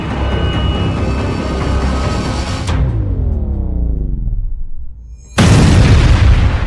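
A large explosion blast in Krasnodar: a loud, sustained roaring rumble cuts out, then a sweeping, fading drone follows before a second powerful, booming blast erupts and keeps roaring to the end.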